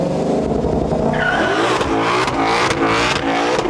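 A 2020 Shelby GT500 launching at a drag strip, its engine revving hard and loud as the tires spin and squeal, with rising pitch and repeated surges close by.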